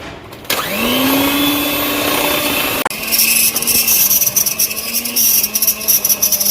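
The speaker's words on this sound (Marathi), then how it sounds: "मिक्स करा. त्यानंतर आणखी फेटा." An electric mixer whirs loudly and steadily as it beats cake batter for a tutti frutti cake, cutting out briefly partway through and then restarting with a slightly shifting, pulsing drone.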